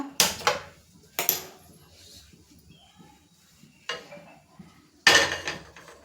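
A pressure cooker is set down on a gas stove in a small home kitchen, producing several sharp, loud metallic clanks separated by short quiet gaps.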